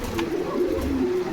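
Pigeons coo steadily at a pigeon market in Bogura selling foreign breeds, a close, loud, continuous burbling murmur from several birds without voices over it.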